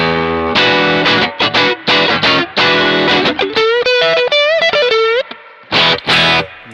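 Electric guitar played through a distortion pedal with level and tone turned up, ringing out loud, saturated chords in short bursts and a sustained, bending lead phrase, with brief gaps of silence between strums.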